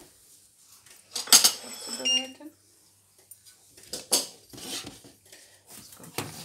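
A frying pan and metal utensils clatter while Bulgarian pancakes are being made: a few sharp clanks, one with a brief metallic ring, spaced among quieter handling sounds, with a voice speaking in between.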